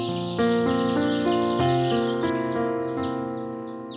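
Male chicks, kept as feed for animals at a wildlife rescue center, peep together in a close, continuous chorus of shrill tonal calls without pause.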